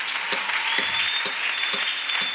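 Church congregation applauding a couple celebrating 40 years together, steady dense clapping with rhythmic accented beats throughout, fairly loud and close, no talk over it.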